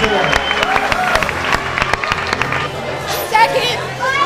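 A crowd at a 2006 Superman Festival costume contest applauds its winners and participants with steady, dense clapping mixed with chatter and scattered voices, all close and loud.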